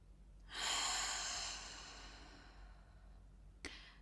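One deep breath is drawn in and slowly let out close to the microphone, a soft airy rush that fades gradually, followed by a brief faint click.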